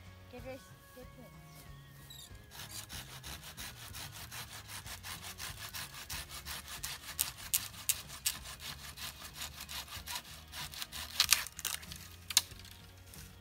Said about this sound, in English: then what I'm going to do is cut some slats